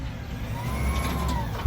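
A garbage truck rumbles past on a city street, a steady low engine drone with a faint high whine, fairly close and loud, with a brief thump at the end.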